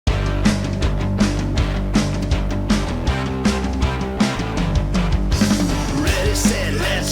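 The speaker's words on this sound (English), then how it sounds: "You can hear the Modalics MINDst Drums in this project that I'm working on right now." A full song mix plays with drums from the Modalics MINDst Drums plugin, a steady rock beat of kick, snare and cymbals under guitars and other instruments, dense and loud throughout with no talking.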